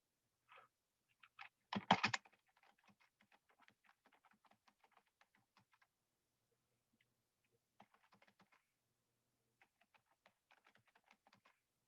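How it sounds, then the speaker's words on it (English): Quiet, scattered keystrokes on a computer keyboard, with a brief cluster of louder clacks near the start, then sparse, irregular tapping. "Guys, I'm typing in the other chat room."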